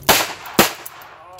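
Two loud, close revolver shots from a Smith & Wesson Model 66-8, fired from the hip about half a second apart, each a sharp crack with a short ringing tail.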